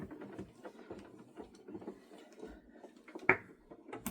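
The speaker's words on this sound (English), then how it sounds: "it does make the plate go through the machine a little bit nicer" A metal plate feeds through an Intricut die cutting machine with a faint, steady mechanical whirr and soft grinding, plus one brief clunk near the end.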